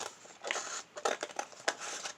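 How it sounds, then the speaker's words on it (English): Scissors cut around a vinyl decal in a series of short, close, crisp snips and slices, irregularly spaced, with faint crinkling of the sheet between cuts. "I got my scissors out because I only used part of it, so I'm going to cut around the decal."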